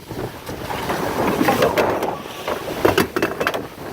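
Wind gusts and rushes past the microphone aboard the sailboat Akula on a choppy day, a loud, steady roar with buffeting bursts and no voices.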